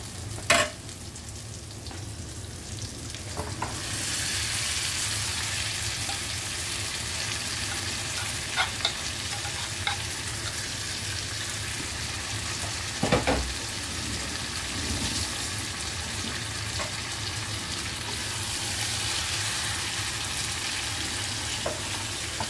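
Chicken pieces sizzle and fry in a pan of thick, oil-releasing spiced masala for a Kerala chicken kondattam, with continuous crackling, intermittent stirring scrapes and occasional sharper clinks against the pan throughout.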